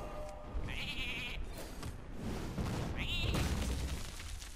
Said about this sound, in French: le petit mouton qui va servir.